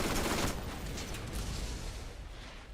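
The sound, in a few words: gunfire from turrets in the video game Borderlands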